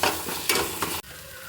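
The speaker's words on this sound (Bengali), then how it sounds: "এবার এর মধ্যে আমি আগে থেকে বেটে রেখেছিলাম জিরেটাকে দিয়ে আবার আমি একটু নাড়াচাড়া করবো এভাবে" Spatula stirring a tomato and ground cumin paste in a pan, giving three soft scraping sweeps over a low sizzle, then a quieter simmer after a brief cut.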